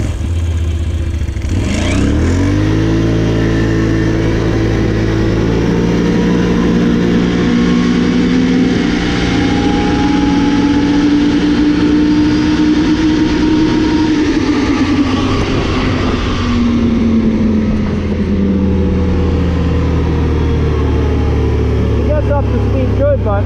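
A 2021 Can-Am Renegade 570 ATV fitted with a Dalton clutch spring pulls away in four-wheel drive and high gear, its engine revving up loud and close, holding a rising drone, then easing off.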